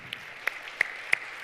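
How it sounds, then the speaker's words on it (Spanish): A church congregation applauds during a conference sermon, a steady, fairly soft wash of many hands clapping with a few sharper individual claps popping out at regular intervals, heard from a moderate distance with no talking over it. "¿Por qué no le das un aplauso al Señor?"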